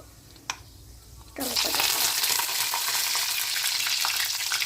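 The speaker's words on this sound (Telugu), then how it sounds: "చిటిపెట శబ్దం వినిపిస్తుందా? మంచి వాసన కూడా వస్తుంది." Tempering spices hit hot oil in a pan for a bottle gourd curry, bursting into a loud, crackling sizzle after a brief quiet moment, then sizzling steadily up close.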